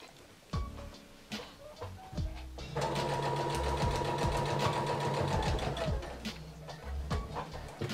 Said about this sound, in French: J'abaisse mon pied et je vais coudre tout le tour de ma lingette.